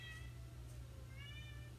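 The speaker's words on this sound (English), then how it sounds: "There's the cat meowing to come in." A house cat meows to be let in, two faint drawn-out calls heard at a distance over a steady low hum in an indoor room.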